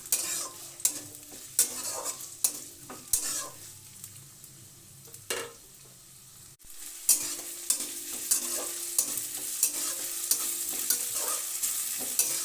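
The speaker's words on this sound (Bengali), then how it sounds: "এক মিনিটের মতো এভাবে ঘেটে নিলাম" Chopped onion stirred and frying with spices in a pan, steady sizzle under repeated scraping strokes of a spoon, with a brief quieter pause midway before the stirring and sizzling resume.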